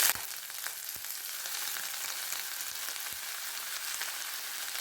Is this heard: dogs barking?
no